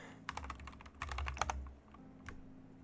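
Quick bursts of clicky typing on a computer keyboard, a few rapid keystroke clusters separated by short pauses over a low steady hum, close and fairly quiet.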